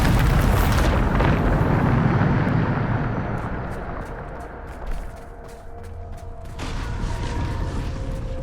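A Bombarda spell blast in Hogwarts Legacy erupts as a loud, broad rumbling explosion that slowly fades into creaking, settling debris, with a second surge of noise near the end.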